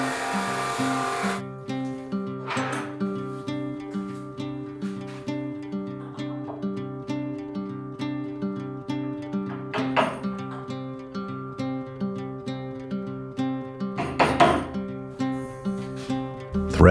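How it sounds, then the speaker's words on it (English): Sped-up jigsaw fitted with a hardwood-specific blade cutting through dense oak, a steady fast rhythmic buzzing rasp with a constant mechanical hum and occasional louder surges. "I'm using a hardwood specific blade in the jigsaw this time."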